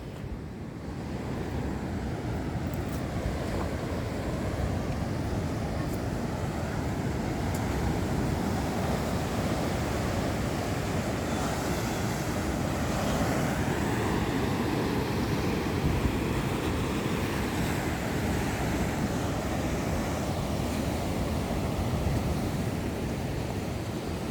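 Steady surf rolls onto the seashore at Tanpael beach in Tigbauan, Iloilo, a continuous broadband wash of breaking waves with wind buffeting the microphone, loud and unbroken throughout with no voices.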